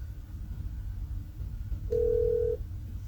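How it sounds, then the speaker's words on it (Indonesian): A telephone handset sounds one steady electronic tone for just over half a second while a call is being placed, rising clearly above a low, constant background hum. "Aku telepon mama dulu ah."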